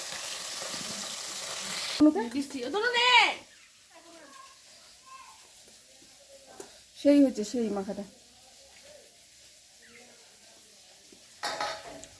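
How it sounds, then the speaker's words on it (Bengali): Bata fish frying in a pan over a wood-fired clay stove, with clattering utensils and stirring against a frying hiss, as people talk at intervals nearby. "এই দেখো বাটা মাছ ভাজা ওদিকে ডিমও আছে আবার লাকড়িতে রান্না"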